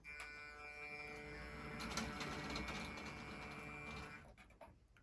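A Dapol model railway locomotive hauls a Henderson's Relish box van, giving off a steady, close electric motor whine with a faint hum that holds for about four seconds before cutting out.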